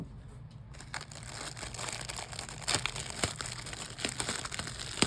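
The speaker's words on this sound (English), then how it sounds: "it's a large box and it has a lot of bubble wrap" Bubble wrap and packing material crinkling and crunching while a large box is unboxed, a steady close run of crackles and rustles with sharper crunches throughout, no talking.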